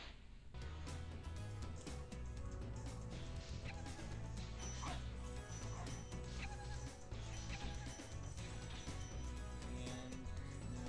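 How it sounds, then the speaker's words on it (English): Dogs barking and yipping in the Spyro video game, repeated sharp barks over busy game music and effects, steady and moderately loud throughout. "I need to wait till those dogs go away and go."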